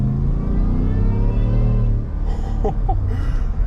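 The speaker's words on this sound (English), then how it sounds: "the supercharger whine. Man. We're gonna... no, we're not gonna do anything silly, but we'll just step on it" A 2021 Shelby F-150 supercharged pickup engine rumbles steadily, then the pitch shifts as it revs and accelerates, with a rising supercharger whine over a loud low drone.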